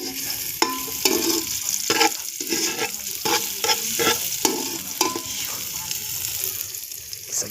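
Native chicken sautéing in a pan, with continuous sizzling frying and repeated scraping stir strokes throughout; steady and fairly loud, with no talking.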